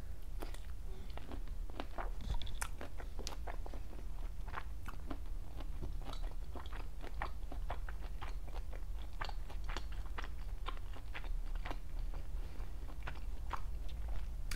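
Close, steady chewing and crunching of fresh Florida pink shrimp cocktail with tequila cocktail sauce, with wet bites and mouth sounds repeating irregularly over a low hum and no talking.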